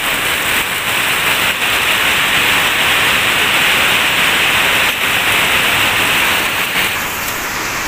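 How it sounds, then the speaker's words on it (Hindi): Heavy rain pours down in Malaysia, a steady loud hiss of downpour with no break, close and continuous throughout. "अभी आप देख सकते हैं कितनी तेज़ बारिश हो गई है"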